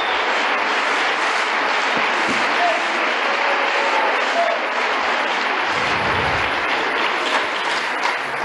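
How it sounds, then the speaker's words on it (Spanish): Steady, dense clapping from a church congregation fills the space continuously, loud and sustained without a break. "pero le va a dar palmas al Señor si lo cree"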